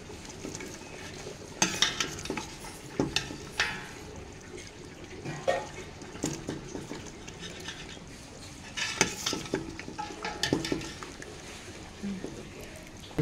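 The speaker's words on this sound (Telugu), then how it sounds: "ఇప్పుడు దీన్ని మనం తాలింపు వేసుకుందాం" Hot oil in a kadai crackles as tempering goes in for hotel-style mutton paya, bursts of sizzling and spoon scraping against the pan in uneven clusters, close and moderately loud.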